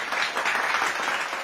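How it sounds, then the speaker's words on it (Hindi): Loud, close applause from a crowd at a direct-selling business gathering honouring a company leader, a brief dense wash of clapping hands. "एक बार जोरदार तालियां होनी चाहिए"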